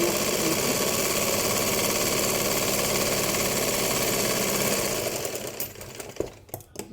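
Sewing machine stitching the lining of a fabric hand pouch, a loud, fast, steady mechanical whirr running for about five seconds, then stopping into a few soft clicks and handling noises.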